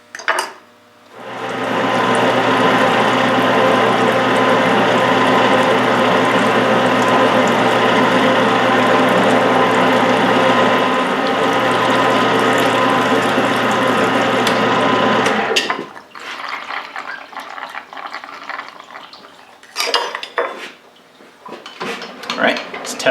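A lathe cuts back the thread face of a Mauser barrel while rebarreling a Yugoslav M48A in .308, a loud steady whirring drone for about fifteen seconds that then stops, followed by scattered clanks and handling noises.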